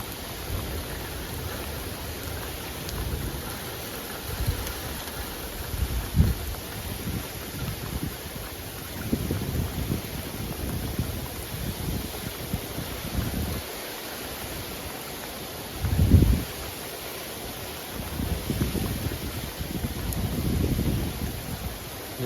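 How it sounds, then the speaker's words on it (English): Gusty wind ahead of a severe August thunderstorm, a constant rushing hiss with low buffeting surges that swell and fade irregularly, loudest in short bursts midway through and again near the end. "it's starting to get a little gusty here"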